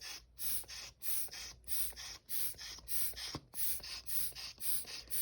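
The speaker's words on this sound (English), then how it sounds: "you could use that to spritz some color on your card" A color spritzer tool sprays marker ink onto a card in a quick series of short hissing bursts, about a dozen regular puffs close by, with brief gaps between them.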